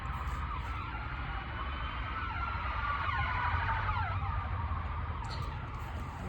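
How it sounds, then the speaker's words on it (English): A police car siren passes outdoors, a wailing tone sweeping up and down steadily for several seconds at moderate distance, blended with traffic rumble and no talk. "there has to be a police car going by"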